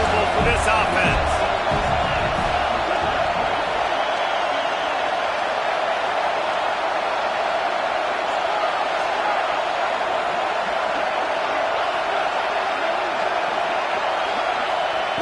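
A football stadium crowd roars steadily throughout as the home fans try to rattle the offense, a loud sustained wash of noise with some thumps early on.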